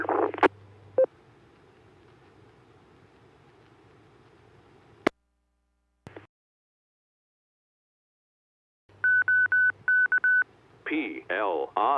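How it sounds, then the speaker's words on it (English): DTMF keypad tones sent over an amateur radio repeater to set its PL tone, short bursts of beeping tones between squelch clicks and static, with brief radio chatter around them. "please stand by a moment while I return the PL tone to the repeater"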